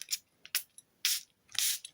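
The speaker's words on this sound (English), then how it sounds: "This one doesn't spray as well for some reason." Several short hissing sprays from a Marks & Spencer fragrance bottle misted onto a tissue, one weaker and sputtering, each burst brief and close with quiet gaps between.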